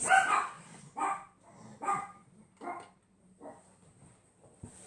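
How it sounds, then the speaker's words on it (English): A dog barks repeatedly nearby, five or six short yaps spaced about a second apart, growing slightly fainter toward the end. "If you hear my dogs barking, that's what's happened."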